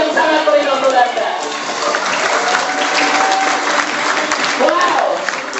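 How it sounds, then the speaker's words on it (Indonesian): Dense, sustained audience applause fills a hall at an online business and network seminar, steady and loud for the whole stretch, with a voice faintly audible through it. "Beri aplaus yang sangat meriah untuk Anda"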